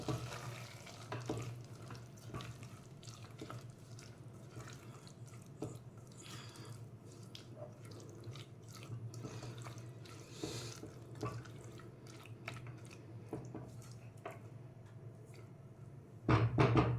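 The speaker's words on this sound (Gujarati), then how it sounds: "આપણે પાણી એડ કરી દેવાનું" Water is poured into a pan of cooking cluster beans (guar), making a continuous soft trickling and splashing in a kitchen. The sound swells into a louder burst right at the end.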